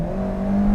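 Mitsubishi Pajero Mini's small engine accelerating, a loud steady drone with a strong hum and a slowly rising pitch, heard briefly and close with no talking.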